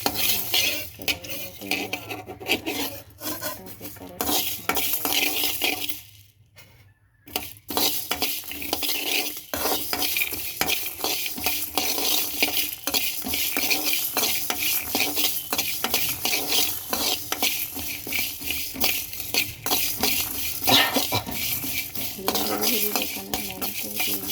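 Fenugreek, cumin and peanuts are stir-fried in a pan with constant rapid scraping and rattling of a spoon against metal, loud and close, with a short pause partway through.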